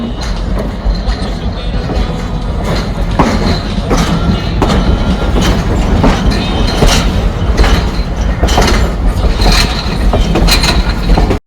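Grand Canyon Railway train in Williams, Arizona, running steadily with continuous low rumble, rhythmic clickety-clack of wheels over rail joints and occasional metallic squeals, loud and close throughout.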